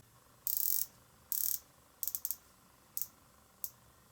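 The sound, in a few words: Rolex Submariner diver's watch unidirectional bezel clicking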